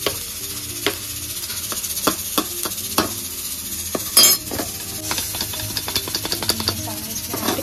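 Chickpeas tipped into a hot frying pan and stirred: a loud, steady sizzle with repeated scraping and clinking strokes of the spoon against the pan, up close and with nobody talking.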